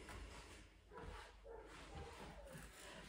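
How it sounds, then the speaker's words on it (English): Dogs bark at a distance indoors, faint muffled yaps with some rubbing and shuffling nearby and no speech. "Oh, my dogs are barking."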